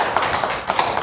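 Applause for a boss, a short burst of dense clapping with sharp taps, steady and fairly close, no voices over it.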